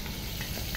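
Tilapia fish pieces fry in a large wok, giving a steady, dense sizzle that holds even throughout with no talking.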